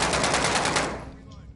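Automatic gunfire in the Warzone video game: a rapid, loud, close burst of about eight shots in quick rhythm, then it cuts off and fades, with no voices over it.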